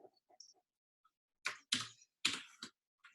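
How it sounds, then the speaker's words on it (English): Close keystrokes on a computer keyboard, a few soft scattered taps followed by a short burst of sharper, louder clicks in an uneven rhythm, heard alone in a quiet room. "So I can type it."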